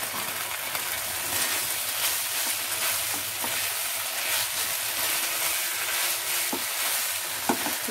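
Cauliflower stir-fried in a pan for a roast dish, a loud dense hissing sizzle running the whole time with intermittent scraping stirs and small pops.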